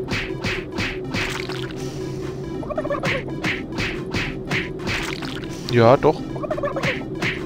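A turkey gobbles in the Super Turbo Turkey Puncher 3 arcade cabinet inside Doom 3, with repeated warbling gobbles and a louder burst near the end, while someone speaks briefly over the game sounds.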